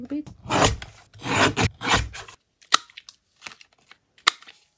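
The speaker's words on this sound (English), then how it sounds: "I'm going to use this mini guillotine. I think they fit. Just approximately. Just trim the top bit a little bit." A mini guillotine cutter trims the top of a sheet of paper with a few sharp, crisp clicks and chops. They come one by one after a stretch of talk, close and fairly distinct.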